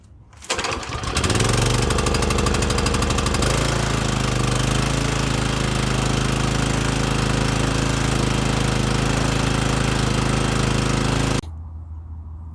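An Exmark commercial mower engine, fresh fuel flowing and set on choke, fires up and runs loud and steady, with rhythmic surging early on before settling into a continuous roar that cuts back near the end.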